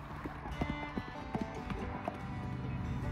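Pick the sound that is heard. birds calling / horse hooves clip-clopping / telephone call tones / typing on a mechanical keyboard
horse hooves clip-clopping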